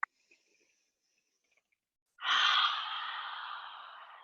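Deep breath during a yoga session, heard as a long airy rush that starts suddenly after near silence and fades slowly over about two seconds, close and alone with no talking.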